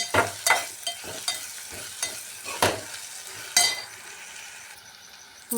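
Spatula stirring and scraping in a sizzling pan of tomato egg curry base right after turmeric is added, with repeated sharp metallic strokes every second or so over a steady close fry.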